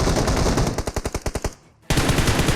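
Rapid automatic gunfire from a video game cracks out in a fast even burst, breaks off briefly into near silence, then resumes as a dense loud wall of shots.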